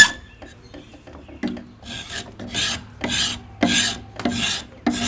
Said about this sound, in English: This is called a scraper or a scraper, and it's the same concept, but instead of pulling off big chunks of wood like this